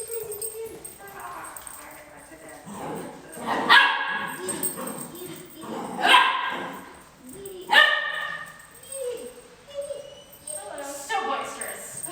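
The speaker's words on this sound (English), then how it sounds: "let's see if we can end it with you guys watching the puppies go mad" Puppies in a dog class bark and yip boisterously as they play, with several loud bursts of barking spread through the stretch, a nearby voice talking between and over them.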